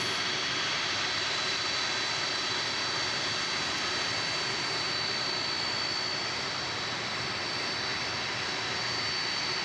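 A large jetliner at DFW Airport roars steadily at a distance, a broad unbroken engine rumble with a thin high whine, no talk.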